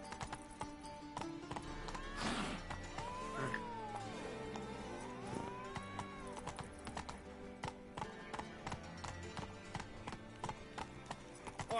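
Roach the horse gallops in a video game, hooves beating a quick, steady clip-clop rhythm throughout, with occasional animal calls and game sounds layered over it.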